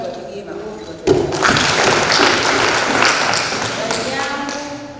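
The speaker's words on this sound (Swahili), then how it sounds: "Naomba tuwapigie makofi watu" Applause from an audience at a district government gathering, a burst of clapping that starts abruptly and carries on steadily for several seconds, fairly loud and close.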